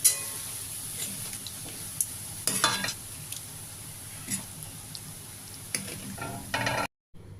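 Prawn mixture for a jackfruit-and-prawn dish sizzles and fries steadily in a hot pan, with brief stirring scrapes and utensil clinks on top, close up and alone with no talking, then cutting out just before the end.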